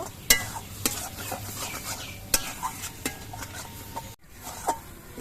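Pointed gourd sautéing in a pan with salt and sugar, a spatula stirring and scraping in sharp clicks over a steady close sizzle, with a brief pause near the end.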